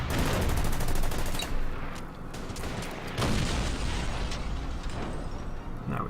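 Artillery barrage in the WWII strategy game Order of Battle, with a dense, continuous rumble of gunfire and booming blasts that swell and dip throughout, loud and close with no voices.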